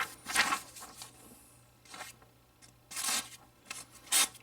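Small Kershaw knife blade slicing through paper, giving several short, crisp rustling and tearing strokes in separate bursts with quiet pauses between, close and fairly soft.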